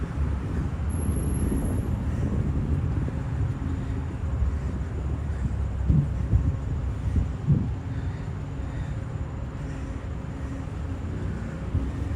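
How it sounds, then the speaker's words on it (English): A New York R subway train rumbles along 4th Avenue, a steady low roar that holds for the whole stretch, with a couple of faint clanks partway through and no talking. "That's the R train."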